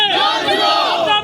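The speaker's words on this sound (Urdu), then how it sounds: "مظاہرین نے ریلوے انتظامیہ کے خلاف نعرے بازی کی" Crowd of protesters at a railway colony ground chanting slogans together against railway administration, a loud massed shout sustained for about a second.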